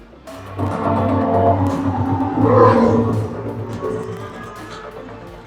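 A Formula 1 race scene plays in a large Dolby cinema auditorium, a loud swelling engine roar with whooshing passes and a tire-squeal peak midway, heard from inside the hall.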